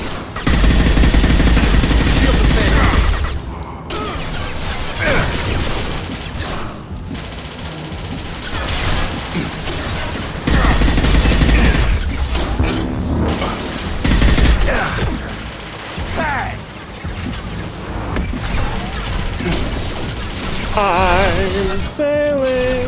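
SMG gunfire in Mass Effect erupts in loud, dense bursts of rapid shots, broken by brief lulls and mixed with impacts and crashes of a firefight.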